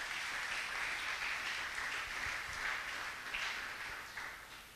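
A church congregation applauds steadily throughout, a dense, even wash of many hands clapping at moderate distance with no talking over it.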